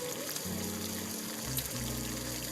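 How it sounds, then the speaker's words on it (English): Pot of water boiling on the stove for poaching peeled jumbo shrimp, a steady bubbling, watery rumble with a low hum underneath, close and continuous, no speech. "I've got boiling water going on here"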